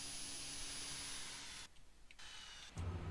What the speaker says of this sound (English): Engines off.